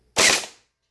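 A single sharp gel ball blaster shot fired close by, a snappy pop with a short fading tail, alone with no talk.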